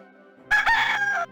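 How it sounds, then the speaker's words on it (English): A rooster crows in the Discworld 2 video game, a single loud, close cock-a-doodle-doo lasting under a second against a quiet background. "A rooster."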